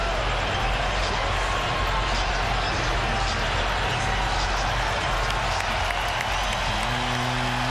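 Cubs fans booing at a baseball game against the Diamondbacks in Arizona, a dense, sustained roar of crowd noise filling the whole stretch, with a commentator talking over it.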